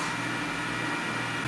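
An Elegoo Neptune 4 Max 3D printer runs in normal mode, about 55 decibels, with a steady mechanical hum and fan whir, constant and unchanging, no voices.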